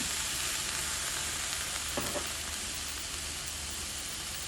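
Water poured into a hot pan of Thai basil stir-fry with fermented pork sausage sets off a steady, loud sizzle that runs unbroken throughout, with a brief stir-like rustle near the middle.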